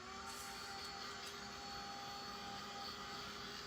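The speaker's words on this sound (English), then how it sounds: "Let me grab my heat gun here." A heat gun drying stencil paint, blowing a steady, even whoosh with a faint whine on top that holds without a break throughout.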